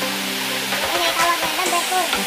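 Montalban Falls in Bukidnon pours as a steady broadband rush of falling water, with people talking over it throughout.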